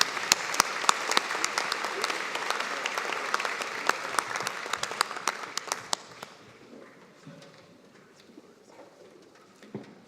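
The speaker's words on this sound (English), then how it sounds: "Let's have a round of applause for our jazz band." Graduation convocation audience applauding a jazz band, a full burst of many clapping hands with sharp individual claps that thins out after about six seconds into scattered claps and faint murmuring.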